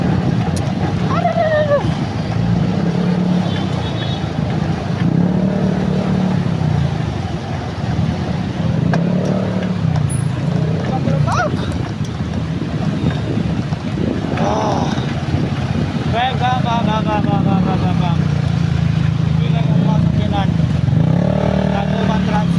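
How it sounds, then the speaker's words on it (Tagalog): Motorcycles riding along a road in the Philippines, a steady rumbling engine drone with heavy wind buffeting, occasional passing vehicles and a person talking at times. "May nagsunod-sunod sa ating mga motor."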